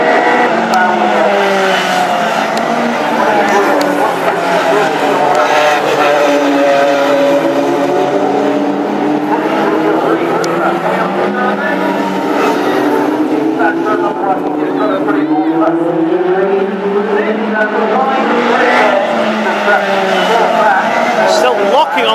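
Classic hot rod race cars roar around the Ipswich oval in icy Arctic conditions during an East Anglian Championship final, engines droning and swelling as they pass, with a commentator talking loudly over them throughout.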